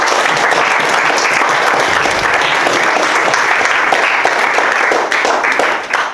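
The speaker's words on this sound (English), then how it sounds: "Round of applause for him." Guests at a speech event break into a long, loud burst of applause for a man, thick continuous clapping that holds steady before starting to fade at the very end.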